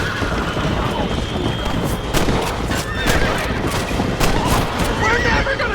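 Horses gallop with continuous hoofbeats in Red Dead Redemption, with sharp gunshot-like cracks breaking through and a whinny near the end, and voices talking underneath.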